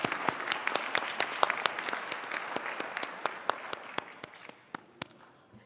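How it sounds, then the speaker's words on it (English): Family and friends at a doctoral hooding ceremony give a round of applause, a moderately distant crowd clapping steadily that gradually thins out and fades, with a few last claps standing out near the end. "You deserve a round of applause as well."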